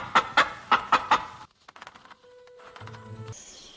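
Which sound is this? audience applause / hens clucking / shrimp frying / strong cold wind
hens clucking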